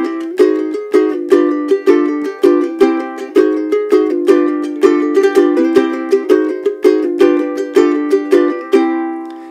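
A ukulele in high G tuning is strummed with a split stroke, producing a steady, bright, loud rhythmic pattern of sharp chord hits that continues alone throughout.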